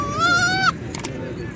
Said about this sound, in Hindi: माशाल्लाह खूबसूरत बकरी के बच्चे देखो